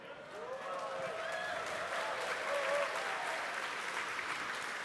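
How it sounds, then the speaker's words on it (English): A distant crowd claps and cheers steadily, a broad wash of applause building slightly, as spectators react during a SpaceX Starship flight landing broadcast, with a commentator's voice faintly beneath. "The crowd here reacting to that call out, letting us know that we are on target for this precise landing"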